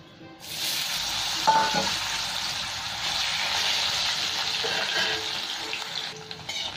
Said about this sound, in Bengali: এই তেলের মধ্যেই আলুটা আমি ভেজে নেবো।